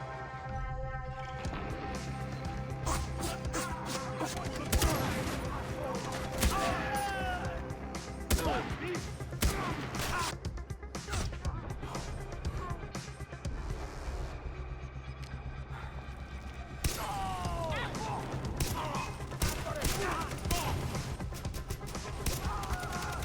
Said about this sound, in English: Next up on the list is the BZ-19 SMG.